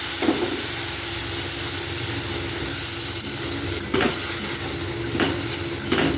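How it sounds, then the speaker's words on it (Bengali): Ginger, cumin and chili spice paste fries in a pan after a splash of water, a loud steady hiss and steam sizzle with intermittent stirring scrapes, close and without talk. "মশলাটাকে ভাজার জন্য সামান্য একটু জল দিচ্ছি।"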